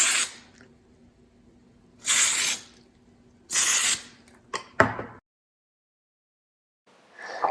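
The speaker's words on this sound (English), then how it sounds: "we're just gonna spray our pan with cooking spray" Cooking spray hisses onto a baking pan in three short bursts, close by, followed by a few light clicks and knocks, then near silence before a faint final spray.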